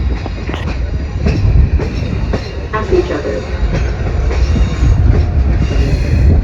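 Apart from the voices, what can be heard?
train running on a big curve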